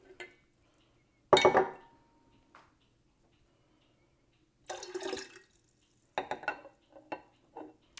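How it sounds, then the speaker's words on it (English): Liquid poured from a cup into a kombucha jar to rinse it out, heard as a few short splashy bursts separated by quiet, fairly close. "I'll rinse this cup out with it just to make sure I get all of it."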